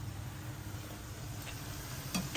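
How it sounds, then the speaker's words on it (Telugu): Ivy gourd (dondakaya) pieces sizzle steadily in oil in a frying pan for a catering-style fry, with a few brief scraping stirs near the end. "ఈ మొత్తం వే వేయించేసిన తర్వాత మళ్ళీ చూపిస్తా మన దొండకాయ ఫ్రై అన్నీ వేగిపోయాయి చూడండి ఎలా వేగాయో"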